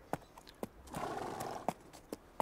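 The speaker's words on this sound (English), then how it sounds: "Slowly I turned my horse homeward." A horse walking homeward between hedgerows as a radio drama sound effect, with a few spaced hoof clops under a brief snort or rumble in the middle, heard fairly near and with no talk.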